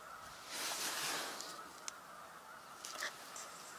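Snow geese and ducks call from a distance, faint honks and quacks scattered over a steady outdoor hiss, with a slightly louder swell of calling early on.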